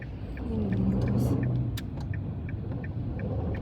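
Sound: car driving in traffic

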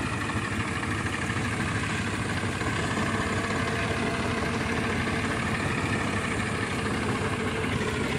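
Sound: tractor engine idling

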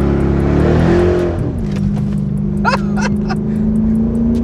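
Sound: Corvette 350 hp car engine revving while drifting

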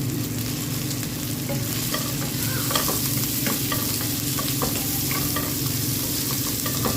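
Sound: sautéing pancit ingredients in a pan

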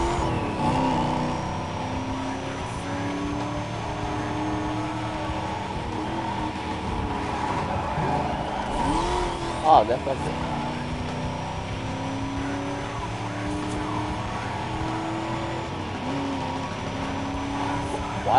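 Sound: Mustang racing car engine, Need For Speed Most Wanted video game

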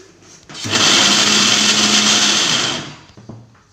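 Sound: mixer grinding vegetables, cumin, garlic and coconut

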